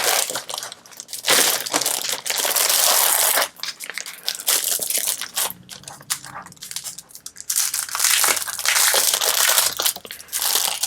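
Sheets of A4 glitter paper are handled at close range, giving loud, continuous crinkling and crackling with brief pauses between bursts of handling.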